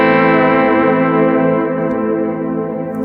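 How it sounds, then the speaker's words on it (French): A sustained electric guitar chord held at a steady level by the warp delay effect of a Boss GX-1 multi-effects unit, shimmering and slowly wavering. "j'ai ce fameux delay warp qui maintient l'accord et qui me le garde à un niveau constant"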